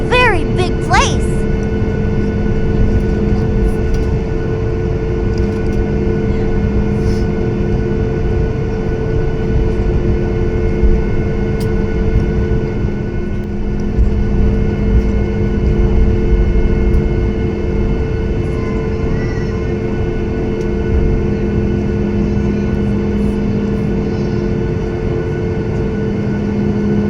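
Airplane engines on takeoff from Orlando MCO heard from inside the cabin, a loud, steady low roar with a constant high whine that holds throughout.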